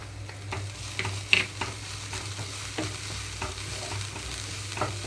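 Ginger garlic paste frying over low flame with onions for an egg fry, a close, low hiss under intermittent scraping strokes of a spoon against the pan.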